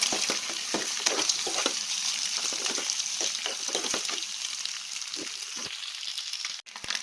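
Boiled eggs frying in hot oil in a pan for an egg masala curry, a steady close sizzle with frequent crackling pops and stirring clatter, no talk.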